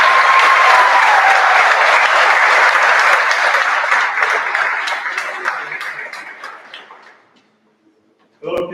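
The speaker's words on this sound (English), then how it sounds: "So let's give a round of applause." Audience applause at a school baccalaureate ceremony, a loud crowd of clapping that gradually fades over several seconds into near silence, followed by a brief sound at the end.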